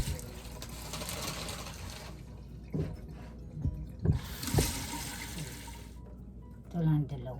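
Water runs from a tap over vegetables being washed, a steady rushing hiss that stops partway and resumes, mixed with clunks and handling knocks from the sink.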